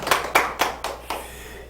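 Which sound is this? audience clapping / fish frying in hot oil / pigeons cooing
audience clapping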